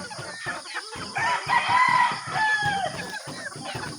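Chickens and chicks in a backyard coop set up by a breeder, with a rooster crowing and hens clucking loudly and continuously over about four seconds, close by, with no talking.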